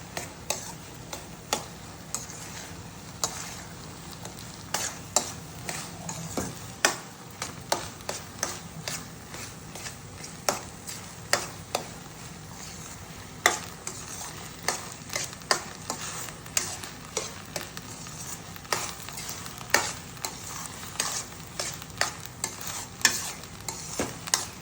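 A spoon stirs sweet pongal cooking in melted jaggery in a pan, giving steady repeated scraping ticks over a soft sizzle, fairly close and without talk.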